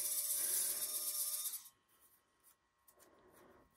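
A drill bit grinds through a wooden blank for jewelry making, a steady close rasp lasting about a second and a half before stopping abruptly, followed by faint handling noises.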